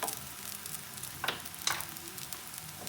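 Crepe sizzling steadily in a hot pan on its second side, a continuous soft fry with a couple of brief clinks or scrapes partway through, no talking.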